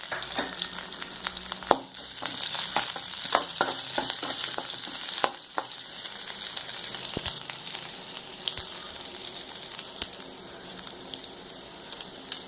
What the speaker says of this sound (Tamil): நறுக்கி வச்ச வெங்காயத்தை சேர்த்துக்குவோம்.